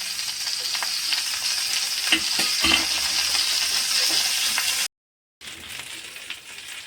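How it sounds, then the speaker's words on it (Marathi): Masala-coated halwa fish frying in oil in a pan, a dense, steady sizzle close up with a few small clicks, briefly cut to silence before the frying resumes. "खालच्या बाजूला आपण चांगली फ्राय होण्यासाठी आपण इथे तेल टाकत आहोत"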